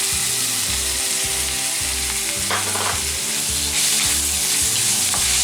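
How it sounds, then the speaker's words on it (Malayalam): Ginger and crushed small shallots frying in hot oil in a pan: a loud, steady sizzle that fills the whole stretch, with a few scrapes of stirring underneath and no talking. "ഈ ഇഞ്ചി ഒന്ന് ചൂടായി വരുമ്പോഴേക്കും ചെറിയ ഉള്ളി ചതച്ചതും കൂടി ഇട്ട് കൊടുക്കാം"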